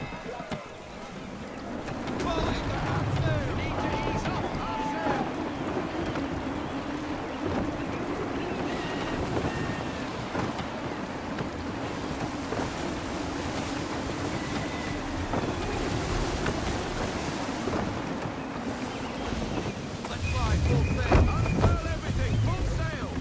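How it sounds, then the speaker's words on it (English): Gusty wind and rolling ocean waves around a sailing ship in Assassin's Creed 3, a steady broad rush that swells near the end, with a voice speaking over it. "Wind looks to be shifting. Stay alert, Connor. Gusty winds can be difficult to manage."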